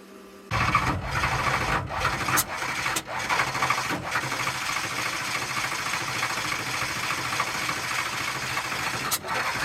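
A desert race vehicle's engine cranks and catches, then settles into a rough, steady running roar that fills the rest of the moment, close and loud with a few sharp clicks or pops over it.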